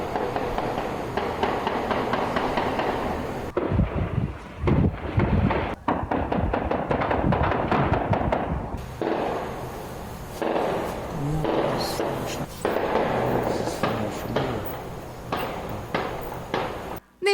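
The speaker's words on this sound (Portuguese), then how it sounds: "É incalculável a quantidade de tiros." Gunfire in a shootout between drug traffickers in the Penha neighbourhood, heard as repeated sharp distant cracks and bursts over a constant noisy background, with talk mixed in.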